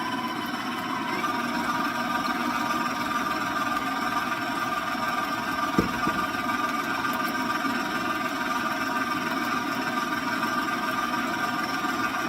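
Electric mixer whirring steadily at close range while beating chocolate pizzelle batter, a continuous motor drone with one brief knock partway through and no talking.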